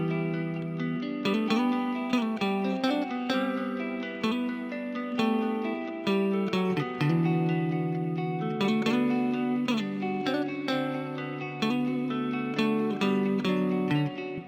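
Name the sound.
mellowed guitar preset top line from Arcade with main guitar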